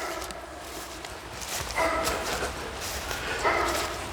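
A dog barks on a neighboring property beside a Christmas tree farm, two short bursts of barking fairly far off over steady outdoor background noise.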